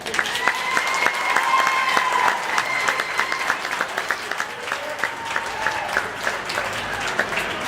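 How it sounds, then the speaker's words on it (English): A crowd at an FFA youth stock show applauds loudly and steadily for a young man. Tonal cheering voices rise above the clapping, which turns sparser toward the end. "Let's give him a round of applause."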